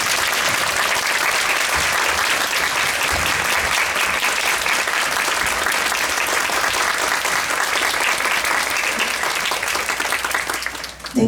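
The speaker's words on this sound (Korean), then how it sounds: "큰 박수로 맞이해 주시면 감사하겠습니다." Theatre audience applause welcoming actors onto the stage for a post-show talk, a loud continuous wall of clapping that stays steady for over ten seconds and ends abruptly.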